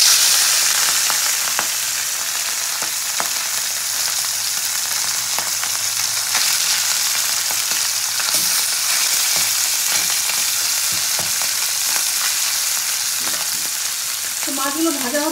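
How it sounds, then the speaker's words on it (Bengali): Small, fresh, fairly large mourala fish sizzle steadily in hot oil in a home kitchen, a continuous crackling fry with occasional pops and stirring, close and without talk. "মাছের তেল গরম হয়ে গেছে, এবার মাছগুলো আস্তে আস্তে ছেড়ে দেবো আমি"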